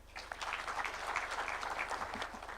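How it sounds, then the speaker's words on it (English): An audience claps together at a Kenyan constitution event, a short burst of dense, even applause heard at moderate level with no talking over it. "let's clap for that."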